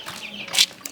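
Chicks newly moved into a coop give brief clucks and peeps, with a sharper burst midway and a soft call near the end, close and moderately loud against a quiet background.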